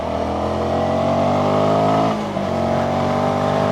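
A Sinnis SM-XE motorbike engine runs steadily and loudly near the rider while riding off-road through mud, holding a droning tone with a brief dip and pitch change around the middle before picking up again.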